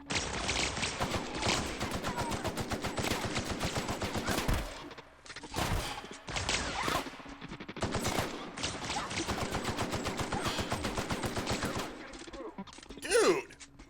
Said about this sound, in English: I love this shotgun.